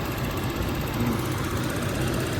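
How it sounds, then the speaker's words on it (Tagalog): The carburetor-type engine of a Toyota Revo nine-seater idles smoothly and steadily close by, an even low rumble with no changes and no talking over it. "Pino ng tunog ng makina mga boss. Ito yung carburetor type."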